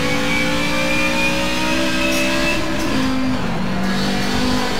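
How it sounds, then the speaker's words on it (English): A Group 5 race car in Forza Motorsport, an Audi 90 IMSA, Nissan 300ZX or Mercury Cougar XR7, accelerates at full throttle out of a corner, its engine revving loud and close with quick gear shifts. "I can actually go full throttle out of corners"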